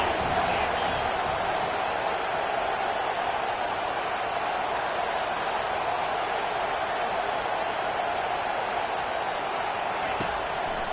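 A football stadium crowd in the CFB 25 video game swells into a loud, sustained roar on third down, a dense, even wall of noise with no distinct voices breaking through.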